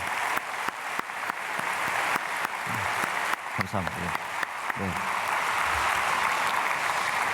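A congregation at Myungsung Church's early-morning prayer service in Korea bursts into short, crisp applause, scattered claps under someone speaking briefly.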